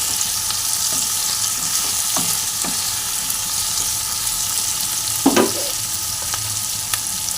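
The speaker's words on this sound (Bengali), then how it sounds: "দেখুন পেঁয়াজগুলো একটু ভাজা ভাজা হয়ে গেছে। এর মধ্যে পরিমাণ মতো নুন দিয়ে দিলাম।" Onions fry with salt in a pan for a Bengali-style chicken curry, giving off a steady, close hiss of sizzling oil broken by a few short scrapes of stirring.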